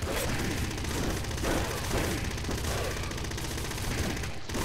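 Enemies in the video game Nuclear Throne fire dense, rapid volleys, a steady and loud wash of overlapping gunshots and blasts that runs throughout without a pause.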